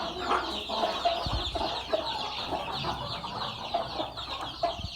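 A free-range country hen clucks repeatedly in short, uneven bursts, close by, with other poultry chatter and farmyard rustling in the background.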